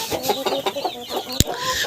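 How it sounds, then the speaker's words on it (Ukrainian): Quick, nasal quacking calls from a white duck repeat in short bursts close by, with a sharp tap partway through. "О, качка назад он хоче вилізти."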